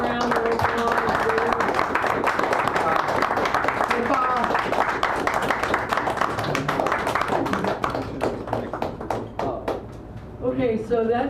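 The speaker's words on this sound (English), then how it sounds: "Let's give him another round of applause." An audience applauds at a café poetry reading, a dense, sustained patter of many hands clapping that slowly thins out before speech resumes at the end.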